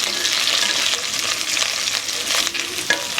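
Potatoes and okra frying together in a pan: a steady, dense sizzle and crackle of hot oil, loud and close, with occasional stirring scrapes and no talk.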